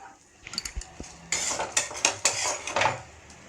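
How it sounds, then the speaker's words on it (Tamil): Radish sprinkled with asafoetida powder is stirred and sautéed in a pan, with a burst of sharp metallic spatula clanks and scrapes against the pan over a faint sizzle, close and loud, with no talk. "கொஞ்சம் லைட்டாக பெருங்காய பொடி தூவிட்டு கொஞ்சம் வதக்கிட்டு"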